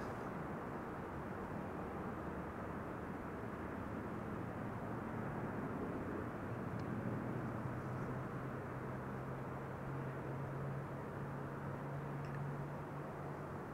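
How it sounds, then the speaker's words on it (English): Turkish Airlines flight 1957 from Istanbul landing at Amsterdam, a steady distant jet rumble with a low engine drone that rises slightly in the second half, no voices. "Turkish Flight 1957 arriving from Istanbul in Turkey."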